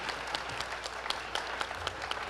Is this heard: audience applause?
yes